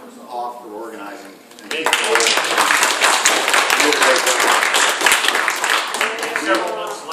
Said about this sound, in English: how about a big round of applause for organizing?